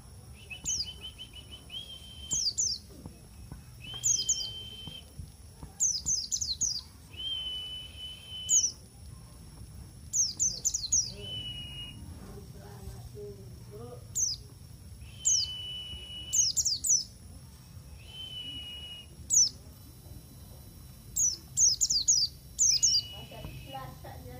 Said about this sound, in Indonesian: Jadi masih mau kicau.